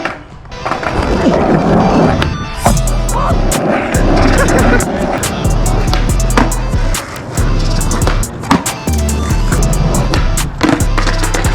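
Skateboard wheels roll loudly and continuously across school pavement in Mesquite, Texas, with repeated sharp clacks and thuds from tricks and landings throughout.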